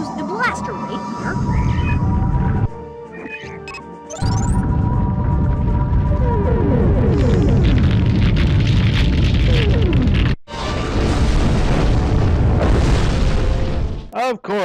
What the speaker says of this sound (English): Maybe I can use the blaster right here.